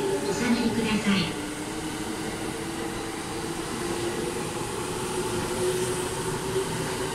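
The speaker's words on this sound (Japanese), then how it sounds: "まもなく3番線を列車が通過いたします" A JR East E657 series limited express train passes through platform 3 at Kashiwa Station with a steady, sustained rumble and hum, while a recorded announcement voice speaks over it.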